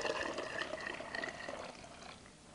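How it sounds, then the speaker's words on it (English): Green soup poured into a big pot, a steady close splashing liquid stream that tapers off near the end. "Pour this into our big pot."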